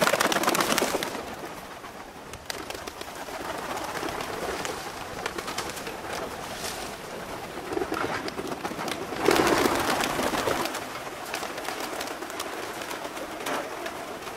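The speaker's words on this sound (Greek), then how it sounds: "Έρχονται τα πουλάκια. Κατεβαίνουν πολύ δυνατά." Pigeons flutter and coo close by, with repeated bursts of wing flapping over a steady outdoor background; no one speaks.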